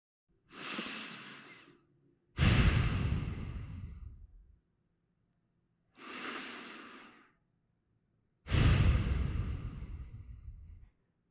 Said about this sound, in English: Let's take a few breaths.